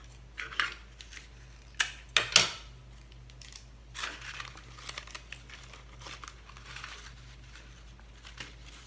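Scissors snipping and crinkling paper while a small triangle is cut out for a paper chameleon sculpture's forked tongue, a few close, sharp crunchy snips followed by softer rustling, no talking.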